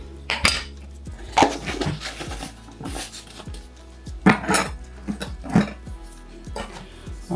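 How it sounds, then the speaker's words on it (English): Veggie pot pie filling seasoned with Jamaican all-purpose seasoning stirred in a pot, with irregular metallic clanks and scrapes of a utensil against the sides, close and fairly loud with quieter gaps between strokes. "we need to stir this around"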